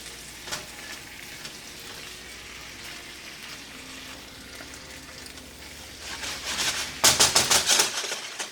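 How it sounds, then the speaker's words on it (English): Frozen broccoli fries and sizzles in a pan, a soft, steady crackle at first, then louder scraping and clattering bursts near the end as it is stirred; nobody speaks. "Okay, so those have had a quick stir."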